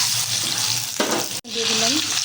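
An egg frying in a pan with turmeric makes a loud, close sizzle that bursts as it hits the oil, drops out for an instant, then resumes with faint tonal sounds underneath.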